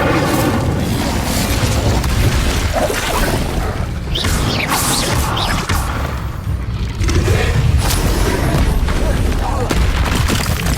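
Incendio fire spells are cast in Hogwarts Legacy, a continuous rumble of booming bursts and crackling magical blasts that stays loud and dense throughout, with combat effects layered on top.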